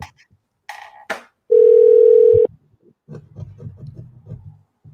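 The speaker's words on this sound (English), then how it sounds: "I'm going to call it and flip the phone over because I don't know this number." Outgoing telephone call ringing out, one steady electronic tone lasting about a second, framed by handling rustles and soft thumps, with faint talk or murmur afterward.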